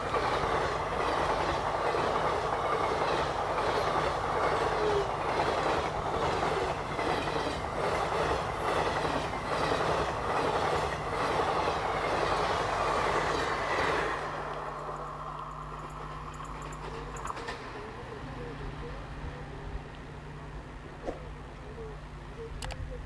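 An Indian Railways diesel locomotive hauls a train past with a sustained, loud rumble and rhythmic wheel clatter for about fourteen seconds, then the noise drops to a softer, receding roll.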